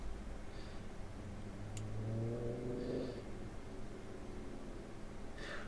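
Aircraft jet engines from a fighter plane in the Kerbal Space Program game hum and whir steadily, with a rising mid-pitched tone swelling for a second or two before settling back into an even drone.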